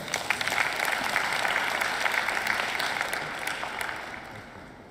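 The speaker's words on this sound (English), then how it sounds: "Could you please give them a round of applause?" A crowd at a student services awards ceremony gives a sustained round of applause, a dense wash of clapping at moderate loudness that eases slightly toward the end.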